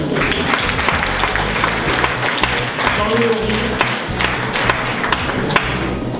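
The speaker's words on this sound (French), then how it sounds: "On peut les applaudir." A crowd applauds the winning group at a French awards announcement, a dense spread of clapping running throughout while a voice reads out names over it.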